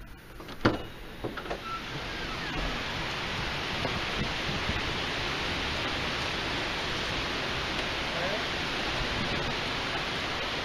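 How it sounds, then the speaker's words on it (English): Steady, dense summer rain pours down without letup, a broad hiss that fills the whole clip after a few brief knocks at the start. "it's raining really hard in the summer"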